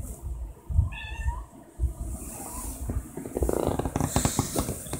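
A pet cat gives a short meow early on, fairly close, followed by scattered thumps, rustling and a brief hiss-like noise.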